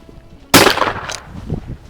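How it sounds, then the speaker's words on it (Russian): A single loud blast from a Perazzi MX8 shotgun fired at a clay target cracks out suddenly and fades into a short, rumbling echo. The shot is close and sharp, with quiet murmuring before and after it. "вторым выстрелом ты попал в эту мишень"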